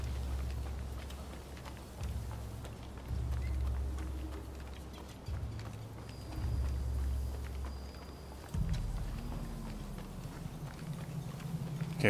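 Horse hooves clip-clopping steadily at a walk in the video game Rise of the Ronin, fairly faint and continuous, with a rumbling low background and a louder shift near the end.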